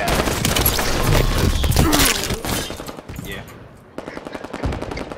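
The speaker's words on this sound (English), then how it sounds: "who's shooting at me?" Dense automatic gunfire in Halo 5 during a Big Team Slayer match on the Guillotine map, loud, rapid bursts that briefly thin out and then start again, with a voice talking over part of it.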